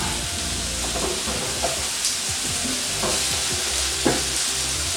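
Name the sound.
apple slices sautéing in butter in a pan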